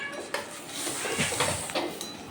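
Roasted peanuts tumble into Gobindobhog rice frying in ghee, a brief rattle and clatter of pan and spoon over a low sizzle, close and moderately quiet.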